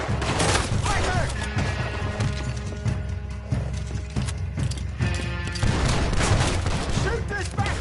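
A dense Red Dead Redemption 2 gunfight plays out with steady, crackling shots and clattering impacts over a constant busy backdrop of music and effects, while character voices shout over the noise.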